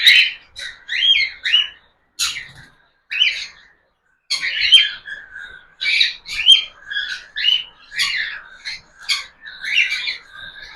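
A pet cockatiel gives bursts of bright chirps and short whistled calls in an irregular rhythm, close and fairly loud against a quiet room, with brief pauses between phrases.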